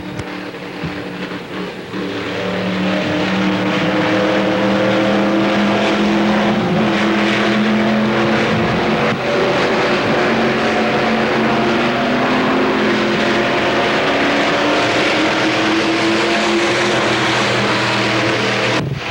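Race car lapping Pennsylvania Motor Speedway during the 1993 Fall Classic 40, a loud continuous engine roar with shifting pitch as the car circles the track, rising sharply after a quieter opening two seconds.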